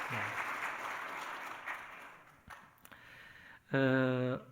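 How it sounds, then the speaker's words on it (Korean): Congregation applause fills a Korean church service, many hands clapping together in a moderate, diffuse wash that gradually thins out, before a voice speaks briefly at the end. "박수로 미리 축하하겠습니다."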